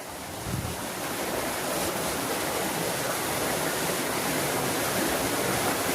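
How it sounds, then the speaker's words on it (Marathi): Steady rushing water fills the whole stretch, a continuous broadband wash like a swift channel flowing close by at a village water filter plant, with no voices. "जसं नदीतनं पाणी येतंय त्याच प्रकारे पुढे कंटिन्यू होतंय"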